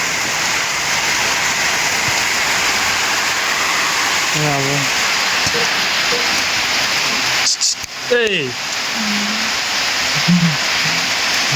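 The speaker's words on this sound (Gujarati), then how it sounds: "વરસાદ ચાલુ થઈ ગયા" Steady, heavy rain pours down throughout, a dense hiss with a few brief voices and animal-like calls faintly in the middle.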